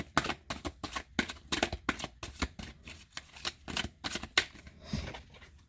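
A deck of tarot cards is shuffled in quick, crisp riffling bursts, a rapid run of close, dry card flutters repeating steadily with no talk.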